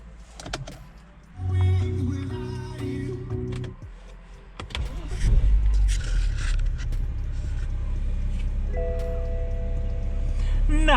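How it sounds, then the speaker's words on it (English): A BMW 530 E61 xDrive estate starts up after an xDrive repair. A steady electrical whine comes first, then the engine cranks and catches, settling into a steady, close idle rumble. "Let's start the car."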